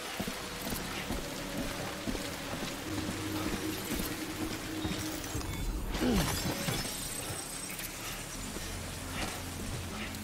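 Rain pours steadily in the video game Death Stranding, a dense constant hiss filling the whole stretch. A brief sharper crack or shatter cuts through midway.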